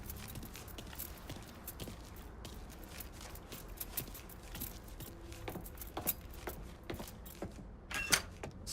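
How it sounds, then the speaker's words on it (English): Keys jangle as Lincoln Clay picks up a truck's keys in the crime game Mafia III, light metallic clinks scattered over a busy ambient bed with footsteps and soft mechanical noises, brightest near the end. "Lincoln, pick up the keys."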